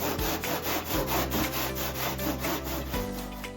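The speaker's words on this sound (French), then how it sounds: "La découpe se fait sur le trait avec une scie." A hand saw rasps back and forth through wood in a steady rhythm of about a dozen strokes, close and continuous.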